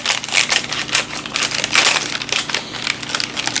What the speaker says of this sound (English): Let me cut these open.